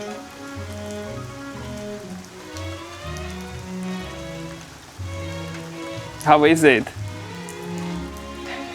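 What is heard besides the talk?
rain shower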